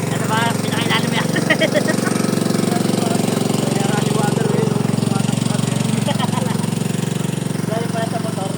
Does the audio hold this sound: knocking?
no